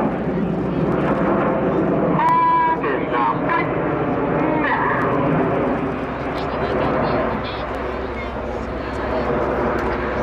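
Red Arrows jets fly a quarter-clover loop at an air show, a loud, sustained roar that swells and fades, with a commentator talking over it throughout.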